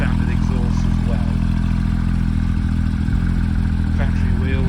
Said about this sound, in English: Innotek exhaust, as you can hear, nice sound